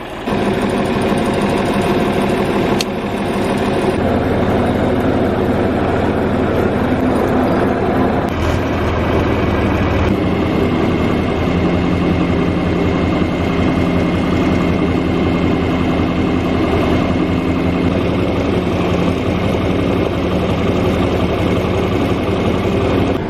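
A combine harvester with a corn head shells corn in a field. Its engine roars loud and steady close by, and a dense mechanical rattle and vibration run unbroken throughout.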